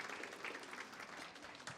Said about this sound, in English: So if you can give all those people a round of applause